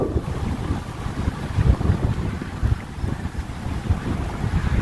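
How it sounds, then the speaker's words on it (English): Wind blows steadily around a tarp shelter in the woods, a loud low rumbling buffet with gusty surges, with no voices. "if you're out in the woods and you got to put a shelter up in the wind, you got to know how"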